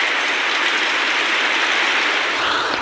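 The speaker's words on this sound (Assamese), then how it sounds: "পুৰা বৰষুণ যি স্পীডত আহিছে" Heavy rain pours down in a dense, continuous hiss, loud and unbroken, with no voices over it.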